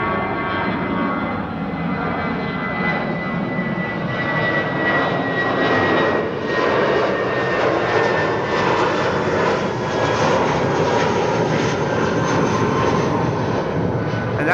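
A United Boeing 767-300 jet takes off from Amsterdam Schiphol, bound for Washington, its engines a loud, sustained roar that swells slightly as it passes, with no one talking.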